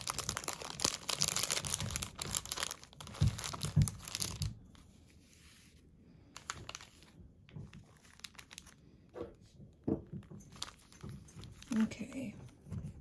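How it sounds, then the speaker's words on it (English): A dog gnaws a bone in the background, giving irregular crunching and crinkling bursts, loud at first and then sparser, while a person handles packaging nearby. "That's my dog chewing her bone in the background"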